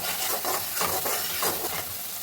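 Onion, capsicum and tomato frying in a pan for chilli chicken, with a steady hiss of sizzling and a few soft stirring scrapes across the pan, close and continuous with no voices.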